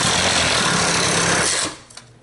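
A power saw cuts loudly in a dense, buzzing whine for almost two seconds, then the motor halts abruptly with an instant stop, leaving only a faint click and near silence.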